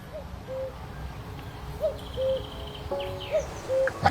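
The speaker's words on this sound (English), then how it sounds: "I can actually hear a cuckoo calling in the distance." A distant two-note cuckoo call repeats several times at a steady, unhurried pace, soft against a faint background of wind and rustling.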